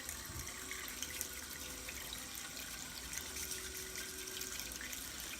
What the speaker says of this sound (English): So I give these guys a little scrub and a little rinse.